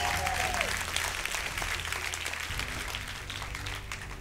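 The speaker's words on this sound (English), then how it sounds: "Again, could you give a round of applause for Brian?" An audience in a room full of people applauds a speaker, a dense, steady wash of clapping that fills the whole stretch, with a brief tone near the start.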